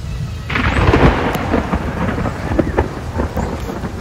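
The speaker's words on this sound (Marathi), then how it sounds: "पावसाचे थेंब बरसू लागले" Steady first rain of the season pours down after intense heat in Pune, with a dense hiss of drops and a low rumble of thunder rolling underneath near the start.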